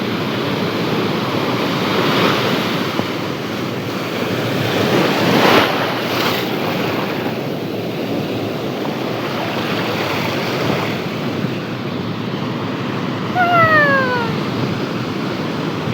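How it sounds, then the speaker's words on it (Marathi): Big sea waves on the Konkan coast at Kunkeshwar wash in continuously with wind noise over the microphone; a louder surge rises midway, and a few short whistling squeaks appear near the end. "लय मोठी लाट येते, लय मोठी लाट"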